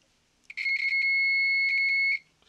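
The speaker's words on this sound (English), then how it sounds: "our multimeter actually has a continuity setting that actually makes a noise" A multimeter set to continuity beeps as its probes touch a new thermal fuse from a Whirlpool Duet gas dryer, giving one steady electronic tone of about a second and a half, clear and alone after a brief click.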